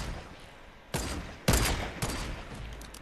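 Gunfire in a base-raiding video game rips out as a couple of loud, dense bursts of rapid shots, each ending abruptly, over a low background rumble with no speech.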